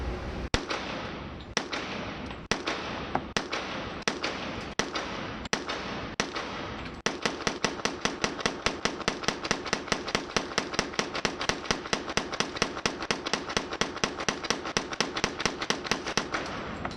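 Tommy gun firing from a 50-round drum magazine at a gun range, a few spaced single shots followed by a long rapid stream of loud, sharp bursts.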